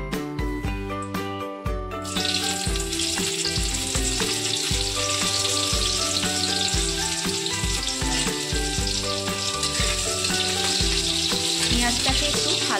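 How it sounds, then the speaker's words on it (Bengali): Chopped onion fries in hot mustard oil in a pan for a fish jhuri, a steady bright sizzle running under loud rhythmic background music throughout. "তারপরে তেলটা গরম হয়ে এলে তারপরে আমরা দিয়ে দেবো হচ্ছে পেঁয়াজ কুচিটা।"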